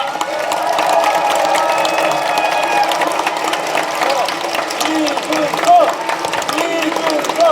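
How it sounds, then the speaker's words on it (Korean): Crowd applause at a political rally in Daegu, loud and sustained throughout, a dense wash of clapping with scattered cheers and a voice over it. "다시 한번 큰 박수 부탁드립니다"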